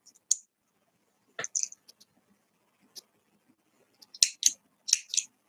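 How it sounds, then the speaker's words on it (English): Scissors snipping yarn while crocheting a child's hat, several sharp, close, quiet snips and clicks separated by short pauses, with no talk. "Now we're going to snip it."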